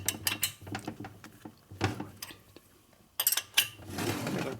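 Ratcheting clicks from a torque wrench tightening bolts in a cross pattern on a 1949 Harley-Davidson Panhead 74ci engine during an overhaul, coming in short irregular bursts with metallic taps and clinks.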